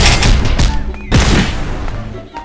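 Rapid bursts of gunfire from shooting aliens in the Minecraft video game, dense and loud, with sharp crackling reports that repeat through the whole stretch and a faint voice briefly underneath.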